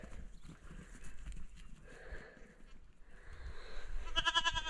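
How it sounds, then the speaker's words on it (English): Goats return after a night out wandering, hooves clopping softly at a distance with a bleat rising near the end, faint outdoor ambience throughout. "Here comes the goats that have been out wandering around all night."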